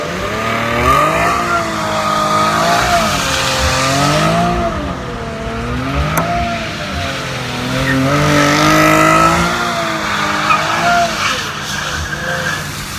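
A 2017 Chevrolet Camaro RS V6 spins donuts in a rain-wet parking lot with traction control off, its engine revving hard in rising and falling waves while the tires squeal continuously, loud and close.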